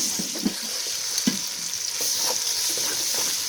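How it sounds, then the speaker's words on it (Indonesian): Ground spice paste with bruised galangal fried in a pan, a continuous bright sizzle with a few spatula knocks and stirring scrapes underneath, close and steady, no voices. "Nah, saiki ganti digoreng bumbune, guys."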